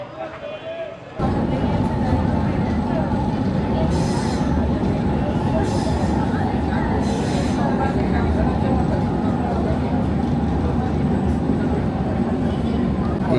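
A Kolkata Metro Blue Line train runs at its far northern end, a steady loud rumble and rush heard from inside the carriage after a brief quieter start.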